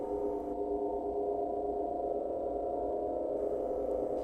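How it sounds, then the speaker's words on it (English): The LittleBigPlanet 2 pause-menu ambience plays as a steady, eerie drone of sustained layered tones. It stays at a constant level throughout with no voices. "It's that sound that plays when you pause the game."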